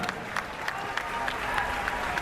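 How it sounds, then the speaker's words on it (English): A boxing arena crowd applauds the defeated fighter Alpay Kobal, a brief burst of clapping and crowd noise with a few distinct claps over a murmuring hall. "Ladies and gentlemen, a round of applause for the brave Alpay Kobal."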